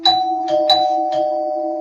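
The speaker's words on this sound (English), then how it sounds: "Beck's doorbell rang twice" A doorbell chimes twice in quick succession, each a bright two-tone ding-dong that rings out and lingers, close and clear.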